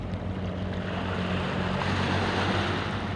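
Sea waves wash onto the shore on a morning beach beside a highway, a steady broadband surf roar mixed with wind buffeting the microphone, with no talking.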